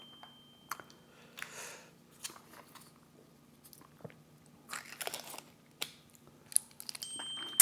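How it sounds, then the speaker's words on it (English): A phone gives faint, high notification dings near the end, sounding over close, crunchy bites and chewing of fast food. "The boss is trying to get a hold of me. That's all that dinging."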